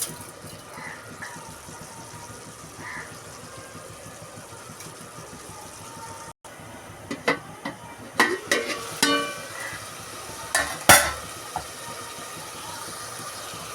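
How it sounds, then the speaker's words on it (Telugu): Onions, green chillies and curry leaves frying in a pan after prawns were taken out, a low continuous sizzle with sharp crackles and stirring clatters growing in the second half. "దీంట్లోనే ఉల్లిపాయలు, పచ్చిమిర్చి, కరివేపాకు వేయాలండి"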